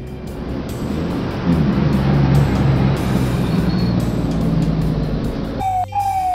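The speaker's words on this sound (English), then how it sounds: "Dump truck." A steady, loud dump truck diesel engine rumbles throughout, with a brief higher mechanical whine at the end.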